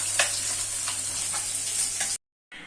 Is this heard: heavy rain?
no